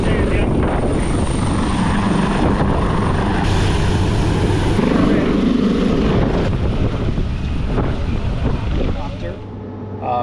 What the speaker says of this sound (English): I was on the helicopter.